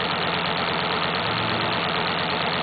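Air motor of a player piano on test, a steady, even mechanical whir with a fine rapid pulsing texture, running continuously and fairly loud with no voices.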